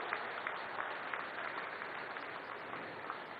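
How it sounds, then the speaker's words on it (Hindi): Steady, dense applause from a large crowd at an expressway inauguration ceremony, continuous and even throughout, heard at a distance without talk. "तालियों की गड़गड़ाहट से सचमुच नितिन जी का अभिनंदन किया जाना चाहिए"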